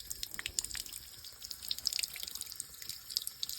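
Water dripping from a leak in a garden near compost bins, a rapid irregular patter of small drips and splashes, close and fairly steady, with no talking.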